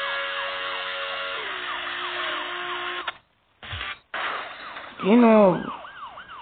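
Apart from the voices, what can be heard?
siren, from video game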